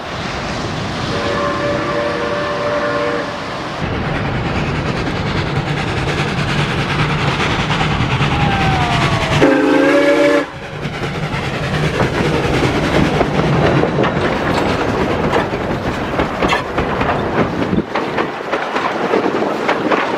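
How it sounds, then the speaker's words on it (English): A steam train passes close by near a beach on the Fleurieu Peninsula near Adelaide, with a loud, steady rumble, rattling carriages and clickety-clack on the rails for the full stretch, and a brief whistle-like tone midway. "especially being so close to that steam train"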